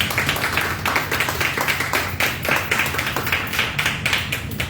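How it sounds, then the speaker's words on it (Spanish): A church congregation claps together in steady, fairly loud applause that continues throughout, with no one speaking. "Va a dar un aplauso al Señor."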